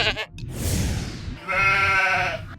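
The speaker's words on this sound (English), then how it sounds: "Sheep." A sheep bleats twice, the second call long and wavering, heard close and clear with no talking over it.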